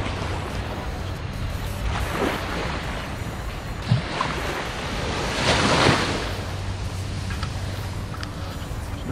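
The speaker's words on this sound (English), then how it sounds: "This is the wonderful beach. Goes on for quite some way." Ocean waves wash onto an empty, long beach in a steady broad roar, with a swell building and breaking near the middle, under light wind noise on the microphone.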